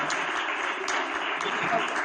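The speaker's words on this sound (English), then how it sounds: "we just want to applaud her mom, her aunt, and the entire team that came with her" Conference audience applauds steadily for a guest and her team, a dense continuous wash of clapping with no break, heard from within the room.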